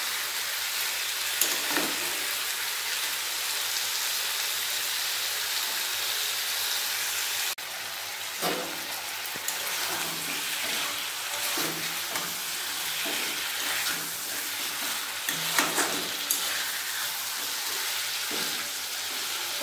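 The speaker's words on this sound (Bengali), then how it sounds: "গ্যাসটা বাড়িয়ে রেখে একটু ভেজে নেব ভালোভাবে।" Chicken curry frying in a pan over high gas, a dense steady sizzle and hiss with occasional louder stirring scrapes and clatter, close and continuous, no talking.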